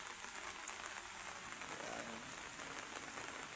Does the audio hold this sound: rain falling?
yes